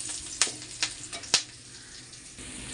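Onions fry in a pan with a soft, low sizzle, punctuated by a few sharp clicks and taps of stirring early on, then settling into a faint steady hiss.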